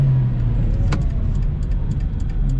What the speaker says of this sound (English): I guess we're gonna be doing a U-turn and start driving back toward home.